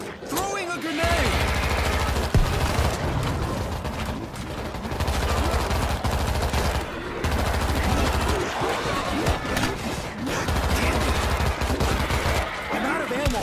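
Sustained automatic gunfire in World War Z, loud bursts repeating with brief breaks and a reload between them, voices calling out under the shooting.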